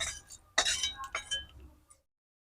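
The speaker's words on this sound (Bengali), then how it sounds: "দেখো কতটা মুচমুচে হয়েছে, ঢেলে দিলেই বুঝতে পারছো।" Crispy fried flat bean seeds are poured out onto a dish in a few quick rattling, clinking bursts, close and fairly quiet, ending in silence.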